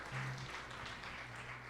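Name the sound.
congregation applauding in church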